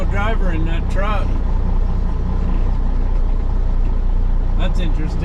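A truck engine runs steadily at a cemetery work site with nobody in the cab, a loud continuous low rumble that fills the whole stretch while brief voices are heard near the start and end.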